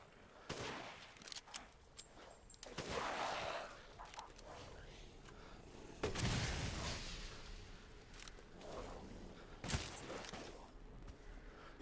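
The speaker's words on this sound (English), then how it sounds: "Flashbang." A flashbang bursts in a first-person shooter video game amid rattling gunfire, a few sudden, fairly distant blasts separated by quieter stretches of muffled combat noise.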